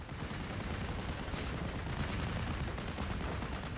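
A constant broadband roar of tank gunfire and explosions from a World War II video game battle, with an AVRE tank firing on a half-track; the dense, steady rumble continues throughout with no speech.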